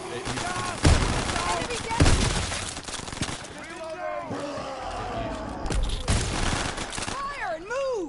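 Rapid bursts of automatic gunfire and single shots in Call of Duty WW2 Infected multiplayer mode, loud and dense, with shouting voices and game chatter layered over the battle noise.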